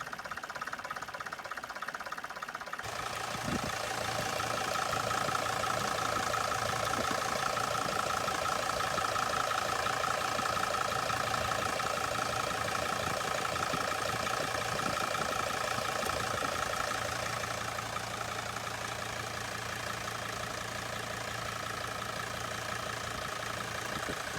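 A Mercedes Sprinter van engine idles with a steady, slightly knocking mid-range drone, then rises in pitch and holds higher as the gas pedal is pressed, with no talk.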